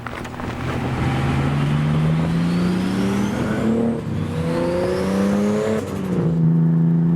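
A 500 hp RB30-powered Nissan Skyline R33 engine revs loudly while driving, its pitch rising and falling through repeated gear changes, with wind noise underneath.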